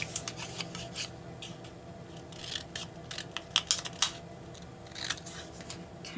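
Scissors snip through paper to cut out a small craft slice for a kids' Valentine mouse project, with a quiet series of close, crisp cuts and rustles in irregular rhythm.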